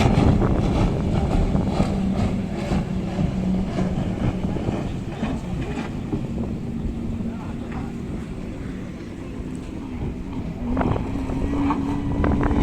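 Motorboats race on open water off Benalmádena, their engines droning and whining in changing pitch through steady wind noise on the microphone, as nearby spectators chat throughout.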